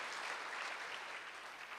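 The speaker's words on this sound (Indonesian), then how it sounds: "Boleh berikan tepuk tangan yang paling meriah buat Tuhan." A church congregation applauds in a steady, dense wash of clapping, moderately loud and continuous throughout, with no voices over it.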